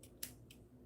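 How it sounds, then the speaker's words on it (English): Barber scissors snip doll hair in a quiet room: one crisp, close metallic cut followed by a second softer snip, with near silence around them. "these are barber scissors"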